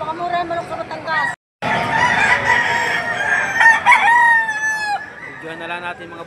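Several roosters crow loudly, overlapping one another with long drawn-out calls, while chickens cluck nearby; a brief dropout interrupts the sound early on.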